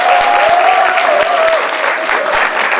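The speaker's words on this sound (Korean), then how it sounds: "뜨거운 박수로 마치겠습니다" Warm, loud applause from the audience at a Korean political talk concert, a close, continuous roar of clapping with a voice briefly heard beneath it.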